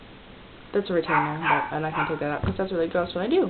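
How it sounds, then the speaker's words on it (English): A pet dog barks and yips over and over behind a person talking steadily at close range, the short barks landing between and under the words. "that's my dog"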